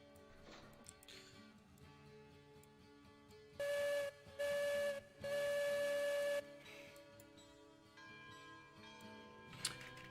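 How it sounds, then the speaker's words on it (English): Steam locomotive whistle from the Railroads Online game, sounding three loud tonal blasts, two short and one long, standing out clearly over quiet ambient game sound. "So I guess we might have to actually do some whistles."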